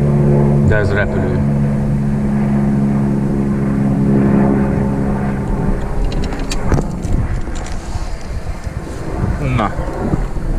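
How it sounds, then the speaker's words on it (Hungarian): A propeller airplane passes overhead near the Tisza river, a loud humming engine drone that fades into wind and rustling, with people talking briefly. "De ez repülő."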